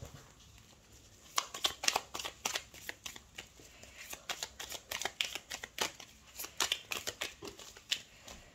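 Tarot cards being shuffled close by, a quiet sequence of crisp riffling and slapping bursts in uneven runs with brief pauses between them.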